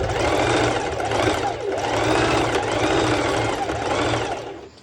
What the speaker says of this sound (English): as you can see I do a few straight stitches